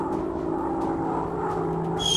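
A WWII bomber's propeller engines drone steadily in the game Warplanes: WW2 Dogfight as the plane flies over its bombing target. The hum is continuous, even and fairly loud, with no voices.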